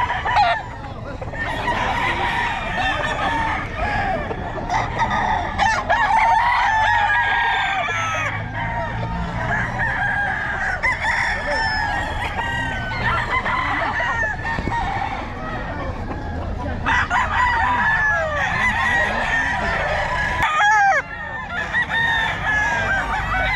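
Several roosters crow repeatedly near and far among clucking fowl at a Batangas gamecock gathering, with people talking in the background.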